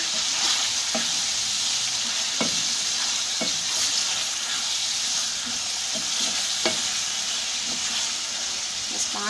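Carrots and chicken fry together in a pan, giving a steady close sizzle with sharp clicks and scrapes from stirring at irregular intervals.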